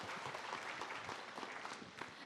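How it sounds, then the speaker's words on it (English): A conference audience gives the panelists an even round of applause. The clapping is thick and continuous but quiet and somewhat distant, with no speech on top. "Maybe let's give them a round of applause."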